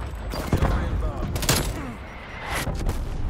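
Artillery strike in Call of Duty Black Ops Cold War gameplay, several heavy booming impacts and crackling blasts in quick succession, loud and close, with a voice talking over them.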